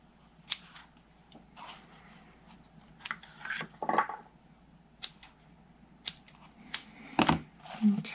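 Scissors snip through paper for a papercraft spring box, several separate crisp cuts spaced irregularly, close and fairly quiet against a faint room hum, with no one speaking.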